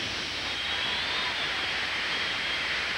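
A jet car engine at a 1990 USHRA monster truck show in New Orleans roars as a steady broadband rush of jet noise for about three seconds, with no talking.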